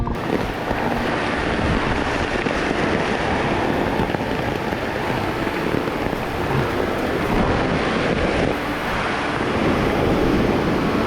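Storm wind and pounding surf on a beach during a white squall, a constant loud roar of gusts and breaking waves buffeting the microphone with no pauses.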